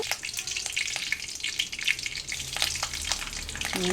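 Curry leaves crackle and sizzle in hot oil in a pan while an avial of mixed vegetables is cooked. The frying is loud and close, with rapid pops and spits throughout and a low hum underneath.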